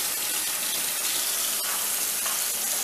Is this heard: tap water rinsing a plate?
yes